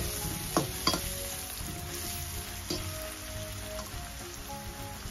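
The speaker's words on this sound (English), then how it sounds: "turmeric powder, salt to taste, 1 teaspoon of red chili paprika, and we are going to fry it" Turmeric powder, red chili paprika and salt fry in a pan with a steady, close sizzle, broken by a few soft stirring scrapes and clinks.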